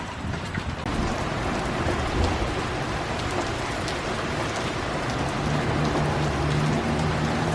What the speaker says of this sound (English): Just starting to sprinkle a little bit, so hopefully the storm's not too bad